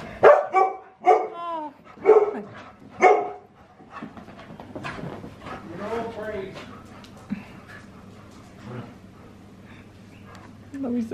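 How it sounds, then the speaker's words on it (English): A dog barks several times in quick, sharp yips near the start, then quieter growls and whines follow while a person talks. "Now Rosie's getting attacked by the crazy pup."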